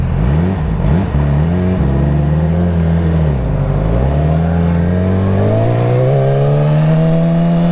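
A car engine revs and rumbles steadily nearby during Hurricane Irma, its pitch rising and falling before climbing smoothly as it pulls away.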